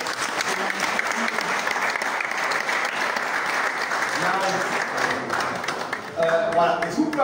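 Dense, sustained applause from a crowd at an African cinema screening fills the whole stretch, loud and even, with voices rising over the clapping near the end.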